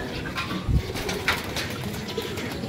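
A pigeon coos close by in a loft, giving a few soft low throaty murmurs over faint background noise.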